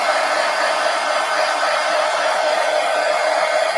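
A hair dryer blows steadily and loudly, close up, drying wet paint on a mixed media art journal page, one continuous whoosh with no pauses.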